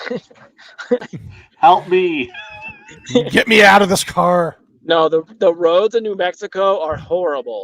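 A cat meows inside a moving car, its cries rising over steady conversation between people in the vehicle, with a few sharp, louder yowls in the middle.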